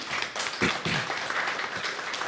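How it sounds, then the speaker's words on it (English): Audience applause for session participants at the close of a parallel session on human capital and labour markets at the EUSDR Annual Forum, steady moderate clapping filling the whole moment without speech. "Big applause, please, for our participants."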